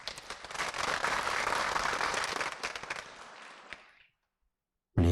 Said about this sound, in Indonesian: Tepuk tangan dong buat beliau.